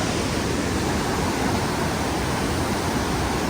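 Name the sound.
large river rushing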